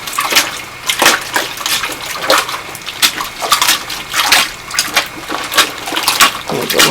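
Clothes are hand-washed in a plastic storage bin full of soapy water, with repeated sloshing splashes and wet scrubbing arriving in an uneven rhythm, close and fairly loud.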